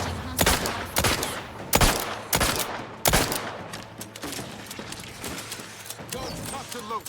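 Rifle fire in the video game The Outer Worlds 2, several loud separate shots in an uneven sequence, then a quieter stretch where voices talk.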